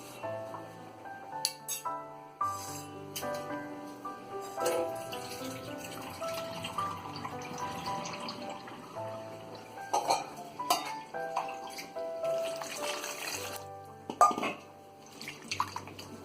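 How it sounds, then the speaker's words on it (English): Water is poured off soaked soya chunks in a kitchen, with trickling, dripping and clinks of a metal bowl and utensils, then squishy squeezing, all close and fairly quiet. "Now we're gonna pour away the water and squeeze water from the soya"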